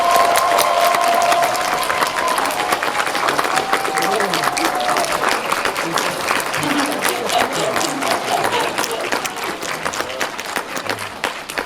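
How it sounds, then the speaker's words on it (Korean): A cinema audience claps and cheers at a film talk event with actors Ha Jung-woo and Kim Tae-ri for the movie 1987 at CGV Yeongdeungpo, sustained dense applause with whoops over it, starting with a voice and tapering slightly. "박수 부탁드립니다"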